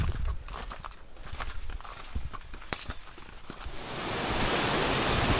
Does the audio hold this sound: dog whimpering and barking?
no